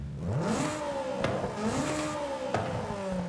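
In the Forza Horizon 5 racing game, a car engine fitted with race cams revs up repeatedly. Each rising sweep climbs to a higher pitch before the shifts. The engine is loud and continuous and no one speaks.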